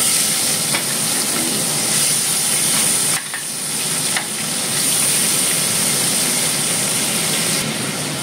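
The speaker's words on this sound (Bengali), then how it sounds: "এই যে দেখো আমার অলমোস্ট হয়ে গেছে মাছ ভাজা" Prawns fry in hot oil in a pan, giving a loud, dense, continuous sizzle close up with faint scraping underneath. There is a brief dip in the middle, and no voices.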